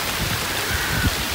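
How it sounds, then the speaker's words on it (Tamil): Heavy, continuous rain falls in Mannar district, Sri Lanka, a steady broadband hiss of drops on surfaces with a brief low thump near the end and no voices. "மன்னார் மாவட்டத்தில் தொடர்ச்சியாக பெய்து வரும் கடும் மழை"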